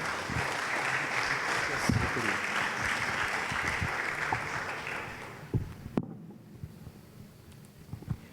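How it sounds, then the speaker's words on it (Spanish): Church congregation applauding for several seconds as a steady patter of clapping, then cutting off abruptly, with scattered handling sounds and light noise afterward. "Denme un aplauso al Señor por su vida."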